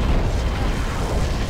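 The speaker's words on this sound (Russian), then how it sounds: "Это не просто эпический, это мега эпический взрыв." A massive explosion in the Garry's Mod video game, a loud sustained rumbling roar of blast noise filling the whole moment with no talk over it.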